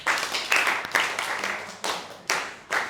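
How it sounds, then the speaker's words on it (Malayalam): A classroom of students applauds a classmate, giving scattered, uneven clapping in several bursts that fade and restart over about three seconds, fairly close and lively. "ഒരു വലിയ ക്ലാപ്പ് കൊടുത്തേ."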